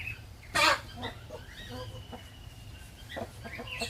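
Chickens cluck and squawk nearby, with one loud burst followed by softer scattered clucks over a low background hum.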